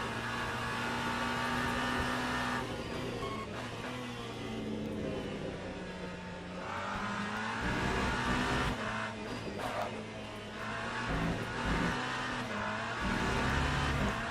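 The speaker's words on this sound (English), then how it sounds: "here we are, driving the Glickenhaus around Sebring" Glickenhaus hypercar engine in Le Mans Ultimate lapping Sebring, a loud continuous racing drone rising and falling through gear changes and throttle lifts, with occasional tire squeal and no talking.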